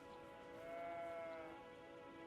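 A single sheep bleats once in the video game Elden Ring, a drawn-out wavering bleat at moderate volume with nothing else around it.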